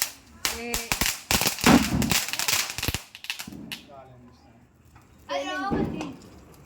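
A Diwali firecracker bursts in a rapid run of sharp cracks and pops at close range, followed by people talking.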